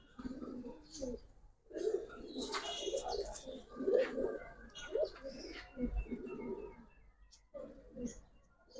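Giribaz pigeons coo in a series of soft, low murmuring calls close by, with faint chirps and a brief wing flutter mixed in, and no talking.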